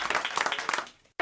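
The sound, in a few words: studio applause on a radio show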